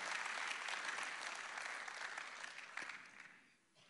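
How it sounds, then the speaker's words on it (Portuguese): A church congregation applauding together, a steady wash of clapping that holds for several seconds before thinning out and fading near the end. "Isso! Vamos aplaudir."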